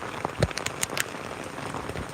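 Heavy rain falls in a steady close hiss, with scattered sharper drops pattering on a surface throughout the brief stretch.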